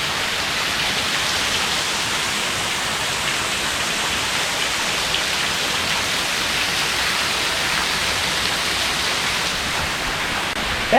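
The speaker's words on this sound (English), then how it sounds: "That is what happens when it rains really heavy by me." Heavy rain pours off a roof in a loud, constant roar of falling and splashing water that runs without letup, even though the gutters are clean.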